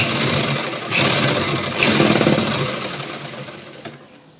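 A sewing machine runs steadily, stitching blouse fabric with a continuous mechanical whir through most of the stretch, surging slightly in short bursts before easing off toward the end.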